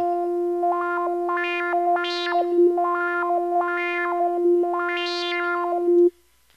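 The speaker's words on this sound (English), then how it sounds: "It gives you this really kind of like your wah effect when you're on a guitar pedal" A sustained synth tone with a resonant filter sweeping up and down in a vocal, wah-like wobble, loud and alone, ending abruptly.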